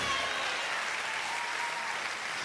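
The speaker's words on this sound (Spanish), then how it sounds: "Alguien dele el aplauso a Dios." A church congregation applauds during a Spanish-language sermon, a steady, dense wash of many hands clapping at once that stays loud and even throughout, with no one speaking over it.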